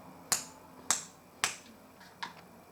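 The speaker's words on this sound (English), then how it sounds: "snapping my fingers" Four crisp finger snaps, close and clear, spaced about half a second apart with a slight pause before the last.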